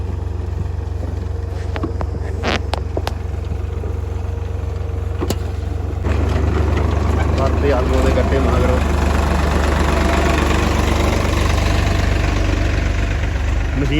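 A tractor engine runs steadily during potato harvesting in a field, a loud, constant low drone that grows slightly busier halfway through, with voices talking over it.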